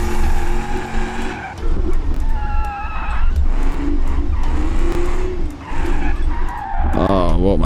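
Loud, sustained tyre squeal from a drifting car in BeamNG.Drive, the screech wavering over engine noise, with voices talking over parts of it.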